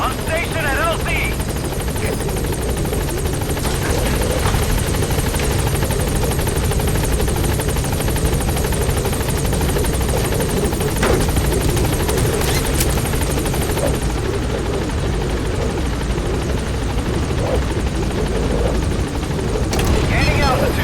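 The Pequod helicopter from Metal Gear Solid V holds at a landing zone, its loud, steady rotor drone and engine hum running unbroken throughout, with faint game effects layered over the din.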